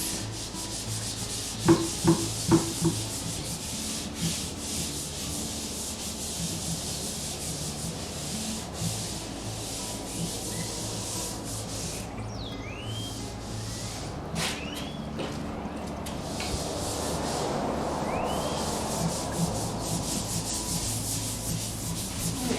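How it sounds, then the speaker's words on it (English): A wooden butcher block table is sanded, a long, continuous close-up scratchy rubbing with a few sharp knocks early on and faint background noise, no one talking. "I'm trying to decide how far down I want to sand."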